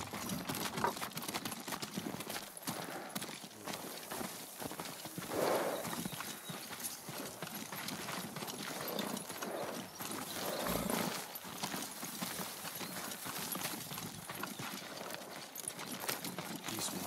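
Horse hooves clip-clop steadily at a walking pace in Ghost of Tsushima, a moderate rhythmic patter over soft outdoor ambience with no talking.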